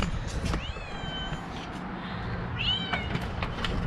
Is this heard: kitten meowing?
yes